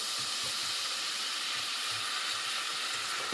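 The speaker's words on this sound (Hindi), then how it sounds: "अब ये तेल काफ़ी हद तक गर्म हो चुका है। मैं इसमें प्याज डालूंगी।" Onions drop into hot oil in a cooking pan and fry with a constant broadband sizzling hiss, fairly quiet and unbroken throughout, with no speech.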